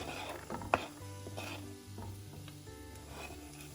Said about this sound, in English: butter's all melted. Now what I'm gonna do is I'm gonna go ahead and add my onions, my garlic,